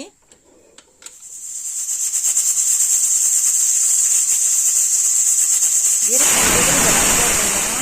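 A sustained high-pitched steam hiss builds and holds, then bursts into a louder, rougher rushing release near the end.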